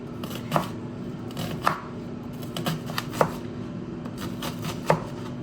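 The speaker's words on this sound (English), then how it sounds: "because it's a salsa type situation, we're gonna dice it" A knife dicing an onion on a cutting board for salsa, sharp distinct chops landing at an uneven pace over a low steady background hum, close up with no talking.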